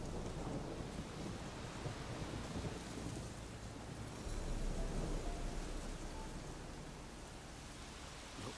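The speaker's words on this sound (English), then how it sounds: "a storm, damn it." Steady rain and rolling thunder from a thunderstorm in the video game The Witcher 3, a continuous dense wash of noise that swells louder midway, with no talking.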